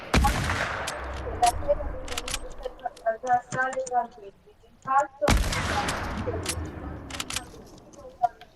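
Gunfire in the battle-royale game Fortnite, with broadband shot bursts near the start and again around five seconds, scattered sharp cracks in between, and someone talking over much of it.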